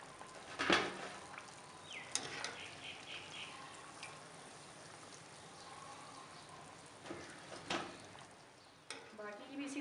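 Aloo kachori frying in oil, a soft steady bubbling hiss with occasional louder sputters and clinks of a utensil, fairly faint and close.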